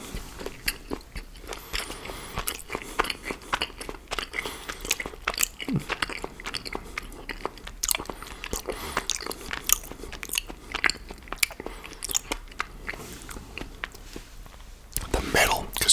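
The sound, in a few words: biting and chewing a chocolate chip cookie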